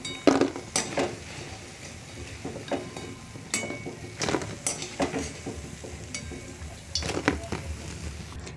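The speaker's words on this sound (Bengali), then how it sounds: "এখন আমি তেল ঝরিয়ে তুলে নিচ্ছি।" Fried fish-egg pakoras being lifted out of hot oil, with soft sizzling under scattered clinks and scrapes of a metal utensil against the pan, close by and irregular.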